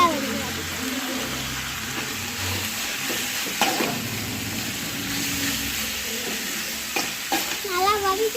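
Cabbage rice seasoned with pepper and cumin is stir-fried in a pan, a constant sizzle with repeated spatula scrapes, while someone talks in the background.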